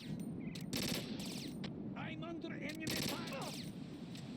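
Automatic AK rifle fire in the PS2 video game Metal Gear Solid 2 comes as several quick, fairly faint bursts of rattling shots spread through the clip, mixed with softer in-game sounds and occasional voices.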